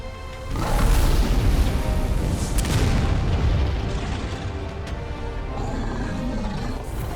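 A huge deep boom erupts in Final Fantasy XVI as a spirit bomb detonates, followed by a long, roaring rumble that slowly fades.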